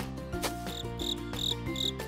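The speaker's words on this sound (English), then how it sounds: "She notices a green cricket jumping up and down." Green cricket chirping in a children's bedtime story, rhythmic high chirps repeating over light musical accompaniment, clear and steady with no voice.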